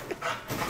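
A dog in a home gives a short whine and a soft yelp, quick, close and fairly quiet.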